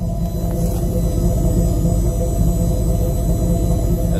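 A 2002 Chevy Silverado 1500 4x4 pickup idles with a deep, steady exhaust rumble, loud and continuous throughout with no talking.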